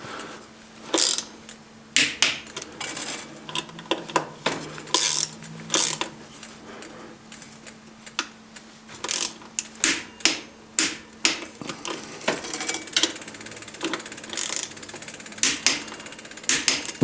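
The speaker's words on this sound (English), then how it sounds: "use a torque wrench on these bolts" Bolts on a Shimano Hollowtech II crankset of a Trek 520 touring bike are tightened with a torque wrench, giving a series of sharp ratcheting clicks in irregular bursts, close and fairly loud, with no talking.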